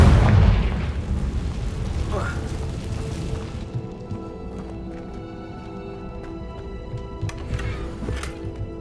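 A Confringo fire spell in Hogwarts Legacy goes off with a loud, booming blast up close that decays into a rumbling tail, leaving a quieter hum with light clicks afterward.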